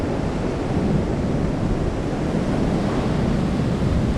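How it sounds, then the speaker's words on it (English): Ocean waves surge at the Siargao island boardwalk, a loud unbroken roar of surf mixed with gusting wind buffeting the microphone, no people heard. "Look at the waves"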